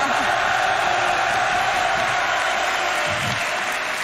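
A crowd applauds at a League of Legends esports match between Vitality.Bee and Karmine Corp, steady sustained clapping and crowd noise under continuous commentator talk.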